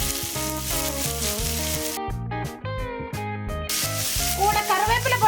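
Onions fry in a pan for Kerala fish pollichathu, a steady hiss of sizzling running for the whole stretch beneath louder background music, with no talking.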